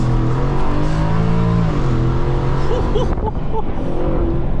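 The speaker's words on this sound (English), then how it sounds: "listen to the downshift" A loud pickup truck engine in manual mode drones steadily, its pitch dropping as it downshifts, then revving briefly with a throaty rumble; a voice murmurs faintly underneath.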